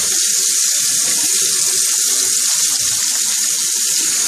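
Tap water runs steadily into a sink during handwashing, a loud, close, continuous splashing gush with no voices.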